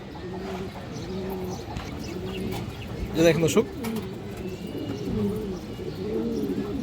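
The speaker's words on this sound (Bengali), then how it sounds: "এই যে দেখেন একবার মনের মতো একটা সিলভার পাকা খাকি মাদি কবুতর" A silver khaki female pigeon and other pigeons coo in a steady, repeating low rhythm, with a brief flutter of louder noise in the middle, while someone talks over them.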